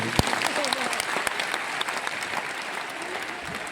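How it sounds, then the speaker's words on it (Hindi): An audience in an auditorium in Patna breaks into steady, dense applause during a meeting, a continuous wash of many hands clapping with a few sharper claps, fairly close. "आप सभी लोग अपने लिए एक बार जोर हाथ ताली करिए।"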